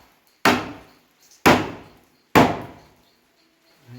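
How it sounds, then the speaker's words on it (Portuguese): A small hammer taps on wood during assembly of a solid wood door: three sharp, close knocks about a second apart, each ringing briefly before fading, in an otherwise quiet room. "Aqui eu uso sempre o martelinho de Osíris"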